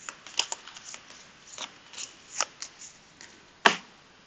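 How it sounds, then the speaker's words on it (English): Playing cards being shuffled for a game of Dune Imperium, soft riffling and flicking at close range with a few sharper snaps, fairly quiet and uneven in rhythm. "So while we're shuffling"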